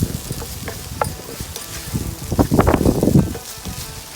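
Spices and black pepper being stirred in a cooking pan, with soft scraping and light sizzling that swells into a busier stretch of stirring midway, close and moderately loud, no talking.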